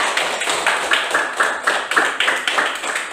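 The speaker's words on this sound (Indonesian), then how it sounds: "tepuk tangan buat Amalina" A classroom of children claps for a student named Amalina during a lesson on ablution, a rhythmic patterned applause of steady repeated bursts, fairly close and continuous throughout.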